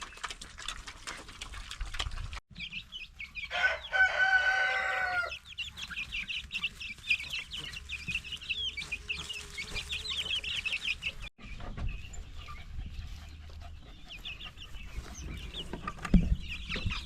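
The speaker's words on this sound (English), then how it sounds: "Check on our baby birds here." Chickens cluck steadily in a farmyard flock on an off-grid property, with a brief louder burst of squawking near the start and continuous background clucking and chirping throughout, no talk.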